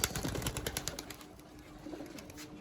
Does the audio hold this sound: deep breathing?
no